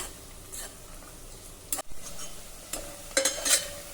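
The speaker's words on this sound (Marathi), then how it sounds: "कांदा आलं लसूण हलक्या तांबूस रंगावर परतून झालं।" Onion, ginger and garlic saute in a pan for khichdi, a low sizzle under scraping stirs and a few sharp clatters of a spoon against the pan.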